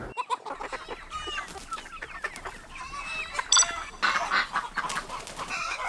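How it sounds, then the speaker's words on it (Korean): Farm chickens, hens and roosters raised for fertile eggs, cluck and squawk in overlapping bursts, fairly close and busy, with a brief crow-like call among them and no talking. "요즘 닭들은 어느 때보다 귀한 몸입니다."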